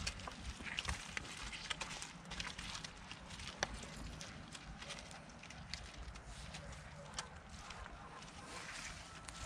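Draft horse hooves clip-clop at a steady walking pace on a hard surface, faint and somewhat distant, amid rustling background noise.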